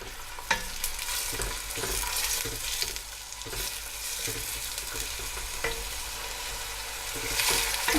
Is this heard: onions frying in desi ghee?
yes